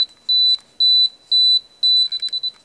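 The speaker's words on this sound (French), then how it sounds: "Si la pile est encore en état de marche, ça bip." A Canon AE-1 Program film camera beeps in a steady pattern, four long high-pitched tones followed by a quick run of shorter beeps, clear and close.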